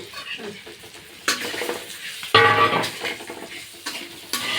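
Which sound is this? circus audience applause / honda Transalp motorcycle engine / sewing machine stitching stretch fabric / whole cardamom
whole cardamom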